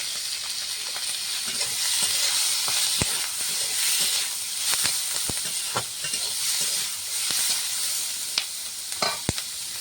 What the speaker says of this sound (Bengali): ফোড়নটা হয়ে গেছে, দিয়ে দেবো কাঁচা লঙ্কা কুচি, পেঁয়াজ কুচি, গোটা রসুন